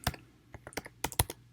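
Keystrokes on a computer keyboard while writing Python code, a handful of sharp clicks in two short bursts, close and fairly quiet with no voice.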